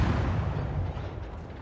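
Tank cannon fire aimed at the Shimmer in a tank video game, heard as a dense, loud, sustained booming rumble with heavy low end that stays continuous through the short stretch.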